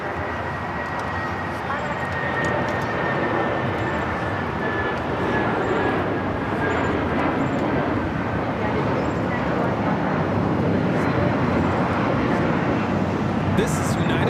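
A United Airlines Boeing 757-200 takes off from LAX bound for Houston Intercontinental, giving a steady, loud, broadband jet roar that holds throughout, with voices talking over it.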